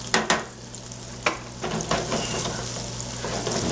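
Fried macaroni and cheese pieces sizzle in hot oil as they are flipped, a steady close frying hiss broken by a few sharp crackles and clicks, with no talking.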